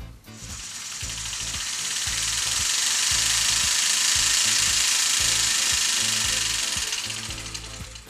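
A wooden mechanical 3D puzzle tachometer, air-driven and spun by blowing into it, whirs up into a loud, rattling gear buzz with a fast ticking pulse that holds for several seconds and then fades.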